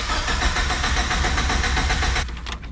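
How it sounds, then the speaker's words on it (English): A turbocharged Toyota engine cranks over on the starter with a rapid, steady, loud churning rhythm. The engine fails to catch, and the cranking stops near the end. "Well, at least she's cranking."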